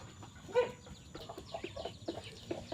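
Chickens cluck and murmur as feed is brought to them, scattered short calls over a steady flock background with occasional louder nearby clucks.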